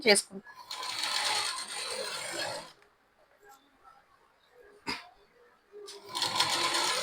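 Sewing machine stitching invisible piping onto the back of a blouse, running in steady whirring bursts with a pause between them, fairly close and loud, and a brief clack in the quiet gap.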